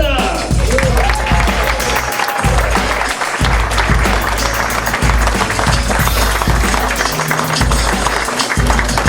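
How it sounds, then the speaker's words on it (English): Audience applauding a comedian as he is introduced on stage: loud, dense, sustained clapping that fills the whole stretch, with voices mixed in. "Let's give it up for Billy Big Daddy Sauceda"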